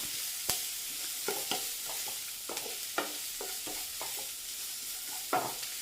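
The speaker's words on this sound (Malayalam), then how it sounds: "ഇനി ഒന്ന് ഇളക്കി കൊടുക്കണം" Carrot, beans and green chili fry in a pan for upma while a spoon stirs them, producing a soft steady sizzle broken by a series of scraping strokes spaced about half a second apart.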